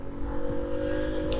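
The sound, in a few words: 1995 Honda CD50 Benly motorcycle accelerating away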